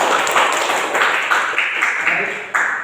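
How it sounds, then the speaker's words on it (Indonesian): Classroom applause during a micro-teaching lesson, a burst of many hands clapping close by in an uneven rapid patter that holds steady throughout. "Tepuk tangan dulu buat teman-teman yang sudah menjawab."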